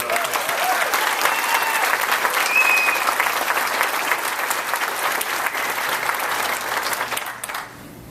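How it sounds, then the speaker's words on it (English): A large audience at a spring graduation ceremony applauds with sustained dense clapping for several seconds before it thins and fades out. "Let's give Sarah one more round of applause."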